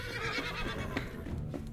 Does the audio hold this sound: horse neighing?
yes